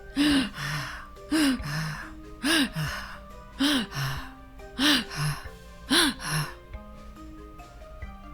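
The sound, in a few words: monster panting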